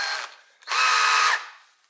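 A power drill with a bent bit drills out a caster rivet in two short close bursts, a brief whir and then a longer loud grinding run that winds down.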